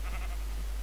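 A single sheep bleat from a Minecraft game, brief and moderately loud over a steady low hum.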